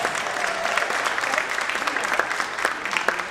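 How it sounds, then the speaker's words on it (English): Audience at an NAACP Black History youth event gives a round of applause for the young people, continuous dense clapping filling the hall throughout, with some crowd noise mixed in. "So let's give them a round of applause."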